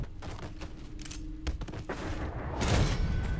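Gunfire in the Mafia III video game: several sharp shots crackle over a busy game soundscape, with a louder, denser burst near the end.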